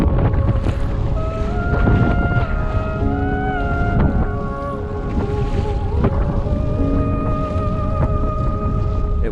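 Strong southeasterly headwind roars steadily across the microphone at sea near Flamborough Head while kayakers paddle, loud and constant with rumbling gusts and faint tonal whistles over it.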